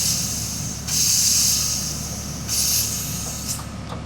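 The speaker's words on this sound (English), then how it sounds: "So I'm gonna get this hose ran, get my air chuck hooked up, we'll get it blowed out here soon." Compressed air from an air chuck nozzle hisses through a car's fuel filler hose in two loud bursts, each about a second long, over a low steady background rumble.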